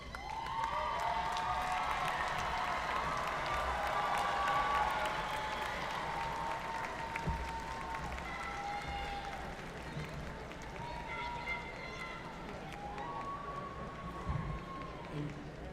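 A commencement audience of graduates stands and applauds their families, dense sustained clapping and crowd noise filling the hall, with cheers and voices mixed in throughout.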